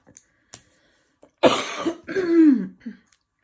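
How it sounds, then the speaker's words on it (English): A single person coughs and clears their throat close by, two rough bursts after a few faint clicks, with no talking. "Apparently I want to cough all of a sudden."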